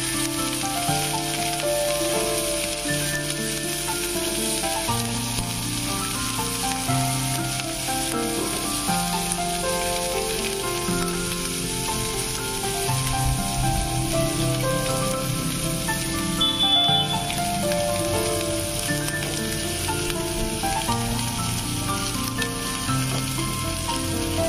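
Onion, fresh and dried chillies and garlic frying over medium-low heat in a pan, giving a steady, dense sizzle that runs unbroken throughout at an even level with no talking.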